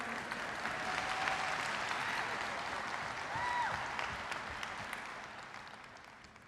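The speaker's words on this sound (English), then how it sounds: "A big round of applause." Sustained applause from a large audience at an architecture, engineering and construction keynote in Las Vegas, a dense, steady clatter of clapping that swells briefly midway and then eases off.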